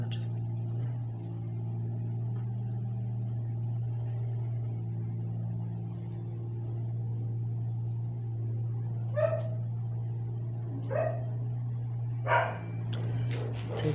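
A few short, distant dog barks pop up over a steady low mechanical hum, spaced out across the second half.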